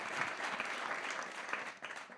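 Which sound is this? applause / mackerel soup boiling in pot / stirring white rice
applause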